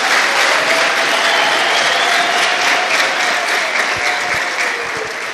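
A church congregation applauds in praise of God, a dense, steady roar of clapping that fills the whole stretch and eases slightly toward the end, with no talk over it.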